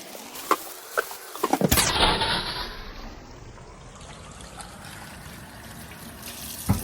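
Sweet potatoes rinsed under a running kitchen tap, a steady close splash of water with a brief louder surge near the start and occasional knocks of the potatoes against the sink.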